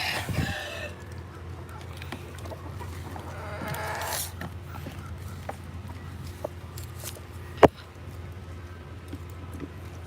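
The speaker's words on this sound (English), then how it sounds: "We fed chickens some scraps" Backyard chickens cluck and murmur as they are fed kitchen scraps, faint calls scattered over a quiet outdoor background with a sharp knock partway through.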